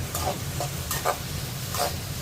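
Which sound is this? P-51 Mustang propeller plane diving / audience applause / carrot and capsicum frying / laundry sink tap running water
carrot and capsicum frying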